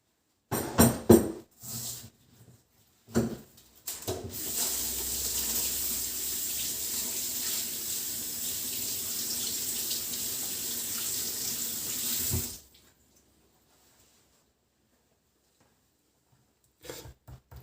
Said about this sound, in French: je vais laver les filets pour enlever tout l'excédent de sel